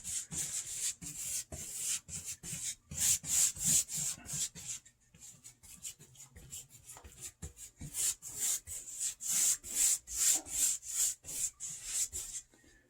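Brush strokes applying paint or touch-up on a wall surface during a powder room bathroom renovation, a steady run of close, repeated rubbing swishes in quick rhythm, fairly loud with short pauses.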